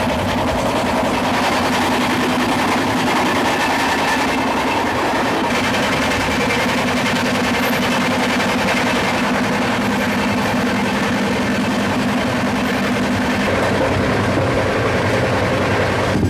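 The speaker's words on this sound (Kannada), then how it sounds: "ನೀವೇನಾರ ಡಬಲ್ ಡೆಕ್ಕರ್ ಟ್ರೈನ್ ಒಳಗೆ ಟ್ರಾವೆಲ್ ಮಾಡ್ತಿದ್ದಾರೆ ಅಂದ್ರೆ" A double-decker express train running from Chennai to Bengaluru, heard from inside as a steady loud rumble with rhythmic wheel clatter on the rails, continuous throughout with no talking.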